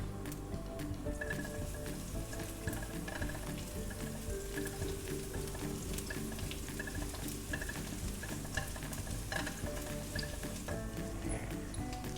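Garlic cloves frying in a pan for a Thai stir-fry of pork belly and bean sprouts: a steady, dense sizzle and crackle with faint stirring scrapes, continuous and close throughout, with no talking.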